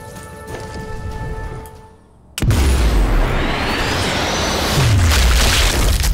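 A sudden loud explosion in the video game Sniper Elite 4, a sharp boom after a brief quiet followed by a long roaring, hissing rumble of debris and a second low thud, with no talk.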